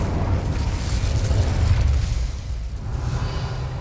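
An Incendio fire spell goes off in Hogwarts Legacy, a deep, rumbling whoosh of flame that swells and fades over several seconds, loud and close with no speech.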